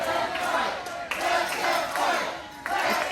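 Wrestling crowd at a Capital Championship Wrestling women's match loudly chanting in a steady, rhythmic unison with a few claps.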